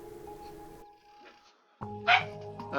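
A dog barks and yips in a room, sharp bursts arriving near and loud after a quiet stretch, with an earlier voice and steady background hum.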